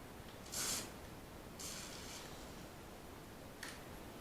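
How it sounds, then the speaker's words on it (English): Short hissing bursts of lubricant sprayed from above onto a model railway train: three separate puffs, the first strongest, a longer second, and a quick faint third, close and fairly quiet. "So what I'm going to do is try to spray from the top."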